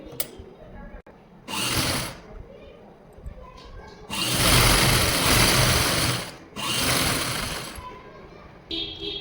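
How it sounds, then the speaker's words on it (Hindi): Sewing machine stitching a seam down the middle of a blouse back piece, running in three separate loud bursts of steady whirring with quieter pauses between them, a voice talking at times. "अब इसको मैं ऐसे बीचों बीच एक सिलाई फिर लगा लूँगी"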